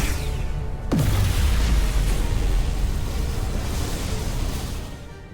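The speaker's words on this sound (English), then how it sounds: "Dilithium explosion!" A dilithium crystal explosion in the Star Trek: Resurgence video game hits as a sudden heavy boom after a brief quiet hiss, then rolls into a loud, sustained rushing roar that slowly fades.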